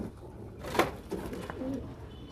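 Pigeons in a loft give a few soft, faint coos, with low rustling in between and no voices.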